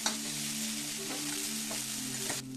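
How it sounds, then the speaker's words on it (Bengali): Grated coconut fries lightly in a pan with a steady, close sizzle and occasional soft stirring scrapes throughout. "আর কোকোনাটটা হালকা ভাজা হচ্ছে"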